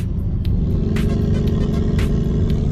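Engine of a BMW 5 Series heard from inside the car as the pedal is pressed lightly: a steady low rumble with a slight rise in intensity and a few faint clicks, with no talking.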